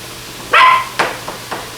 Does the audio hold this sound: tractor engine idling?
no